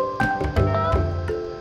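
A cat in Bali meows a few times in quick succession, high and soft, over a background of music-like tones and low rumble.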